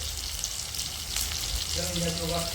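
Pieces of ban fish (eel) fry in hot oil with a steady, close sizzle and crackle throughout, and a faint voice briefly joins near the end.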